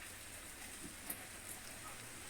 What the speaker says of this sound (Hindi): बारिश की रात है